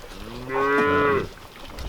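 A single drawn-out moo from a calf at a barn, fairly close and clear, rising and fading over about a second amid quiet surroundings.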